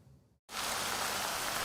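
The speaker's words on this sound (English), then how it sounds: "Although it rained hard" Hard rain falling at an outdoor rally outside a tech company headquarters, a dense, loud, steady hiss that starts abruptly after a brief quiet gap and continues unbroken.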